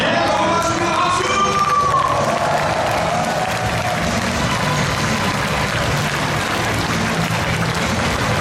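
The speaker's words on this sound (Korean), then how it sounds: "박수!" A large outdoor rally crowd in a plaza breaks into sustained, loud applause and cheering after a countdown, a dense continuous roar with scattered shouts and whoops.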